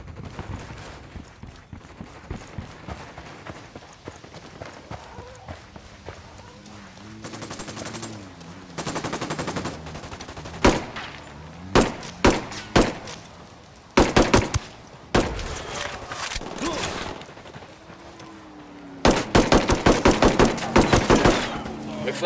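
Bursts of automatic gunfire from a firefight at a jungle barracks in the video game Ghost Recon Wildlands, with rapid volleys and isolated loud shots that grow denser toward the end.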